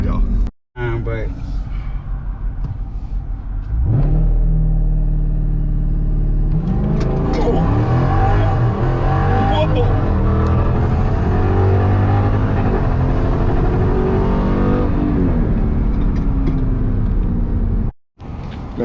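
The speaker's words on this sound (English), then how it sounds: "the way this thing just take off from a dead stop, it's unmatched" An SRT Jeep launches from a dead stop, its engine revving hard and building into a loud, rising roar that holds through the run, with voices talking over it.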